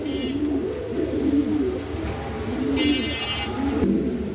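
Pigeons kept in pairs cooing repeatedly in low, rolling calls through the whole stretch, with brief high tonal notes now and then over a steady background.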